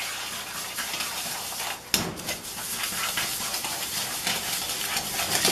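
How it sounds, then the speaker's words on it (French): Recipe batter being mixed in a bowl: dense, continuous wet stirring and scraping, close and steady, with one sharp knock against the bowl partway through. "Et donc je mélange."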